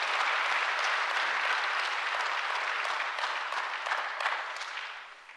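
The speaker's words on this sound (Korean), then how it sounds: "오늘 이 땅의 모든 어머니들 위해서 한번 박수 한번 하겠습니다." A church congregation applauds together for mothers at a Korean Presbyterian Sunday service, a dense, steady wash of clapping that fills the room and slowly thins toward the end.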